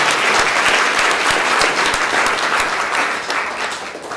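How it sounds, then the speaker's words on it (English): An audience at a patient Q&A session breaks into steady, dense applause that holds strong throughout and begins to fade slightly in the last second. "Maybe we'll give another round of applause"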